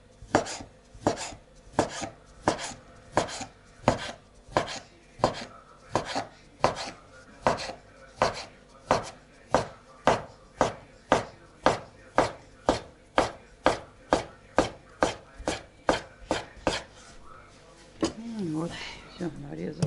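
A knife chops rhythmically through homemade noodle dough on a board, dozens of even, sharp thuds in steady succession, followed by a brief voice at the end.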